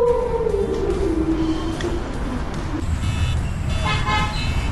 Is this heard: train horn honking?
yes